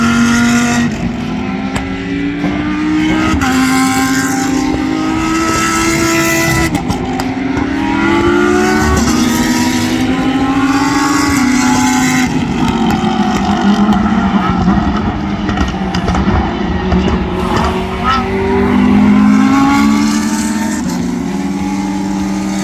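Lamborghini cars race at a racing event, their engines roaring loud and close in repeated rising and falling revs across about twenty seconds.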